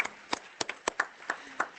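Sparse, faint clapping from a few people at an online Internet Governance Forum consultation meeting, about eight distinct claps spread unevenly over a couple of seconds.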